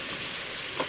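Squash pieces for pakbet, a Filipino vegetable stew, drop into a hot pan and set off a steady close sizzle, with a brief louder burst near the end.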